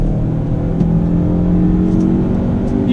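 A 2019 Hyundai Tucson Night Edition with a 6-speed automatic gearbox accelerating after a downshift, heard from inside as a steady loud engine drone with rising rumble and tire noise, no voices.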